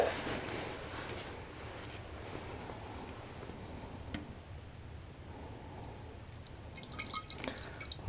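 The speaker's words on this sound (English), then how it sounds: "I want you to get a rough idea of how much water we have to put in here" Water is poured into a Champion 31 cc gas-powered water pump being primed, a steady close trickle and splash with occasional drips and small knocks, no one talking.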